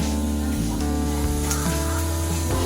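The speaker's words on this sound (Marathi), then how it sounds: "मस्त कांदा परतून घ्यायचा तेलामध्ये लाल व्हायला पाहिजे" Chopped onion fries in hot oil with turmeric in a home kitchen, for a Puneri-style brinjal bharit: a steady, close, continuous sizzle with small crackles throughout.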